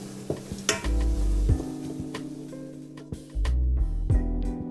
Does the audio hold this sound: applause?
no